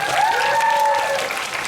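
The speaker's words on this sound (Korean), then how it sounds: "여러분 박수 한번 주세요" Applause from an audience greeting the cast on stage at a Korean movie premiere, dense and steady with a high voice cheering over it, close and loud throughout.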